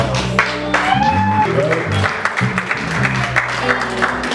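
A church congregation applauding, a continuous wash of clapping mixed with voices and cheers from the crowd, close and fairly loud throughout.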